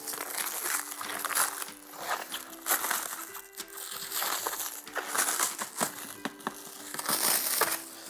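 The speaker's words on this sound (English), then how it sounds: "you should be able to rip into the plastic there" Plastic wrapping torn and crumpled off the base of a Steelcase Gesture office chair, a close run of crinkling, crackling rips in irregular bursts with short pauses between pulls.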